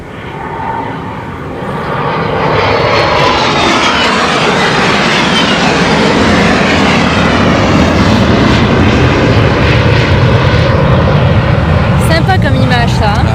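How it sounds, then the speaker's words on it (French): Two fighter jets pass overhead with a loud, rising roar that swells after a couple of seconds and then holds as a broad, rushing drone. It is close and powerful, and it drowns out the surroundings. "Il y a 2 avions de chasse, là, regarde."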